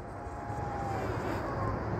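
An FPV drone flying high in air mode gives a steady, distant whine and rushing hum that holds at an even level for a couple of seconds, with no voices.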